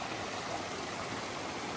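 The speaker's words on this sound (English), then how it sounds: "All right, I've made it to the creek. This is Yellow Patch Branch." Yellow Patch Branch, a mountain creek in Jackson County, North Carolina, runs with a steady broadband rush of flowing water, close and continuous with no voices.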